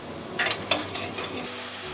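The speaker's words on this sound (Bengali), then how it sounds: "এখন আমি মশলাটা কষিয়ে নিই" Spice paste for a tomato khatta with katla fish being sautéed in a pan, a steady hiss of frying with a few sharp scrapes of the spoon near the start.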